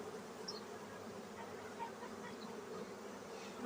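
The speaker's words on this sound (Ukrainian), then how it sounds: "відразу відчувається, що багато бджіл" Many honeybees drone inside an opened hive crowded with bees during spring inspection, a low, continuous buzzing hum close by, steady with slight swells and no talk.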